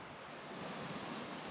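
River running across a mountain road in Nepal, a brief, steady rushing wash of water, fairly faint and alone.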